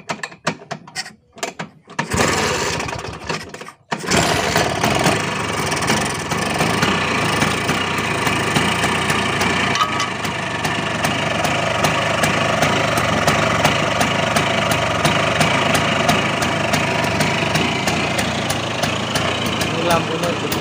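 A Vespa scooter engine turns over after a couple of brief attempts, then settles into a steady, loud, close idle that continues without a break.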